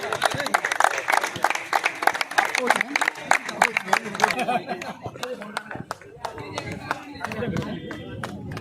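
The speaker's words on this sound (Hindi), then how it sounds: "बेटा यहाँ पे तो तालियां बजाओ इनके लिए तो" A crowd claps at a district-level Sanskrit student sports competition in Swargashram, Rishikesh, with quick, uneven claps from many hands that thin out midway and pick up again, while people talk over them.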